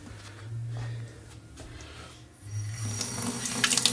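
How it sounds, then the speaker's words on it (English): Water poured into a Mishimoto compact baffled oil catch can during cleaning, a low gurgling trickle that swells into a brighter splashing rush near the end, close up with no talk. "If I put the water in this hole, look what comes out of the micron filter in the bottom."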